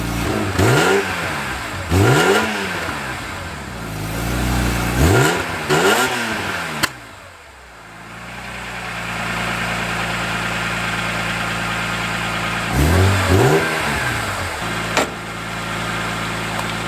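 A BMW E46 M3 with a centre pipe muffler delete revs in several sharp, raspy bursts that rise and fall over a lumpy idle, with a quieter steady idle stretch between the rev runs.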